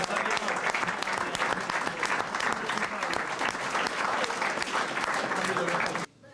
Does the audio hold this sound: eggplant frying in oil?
no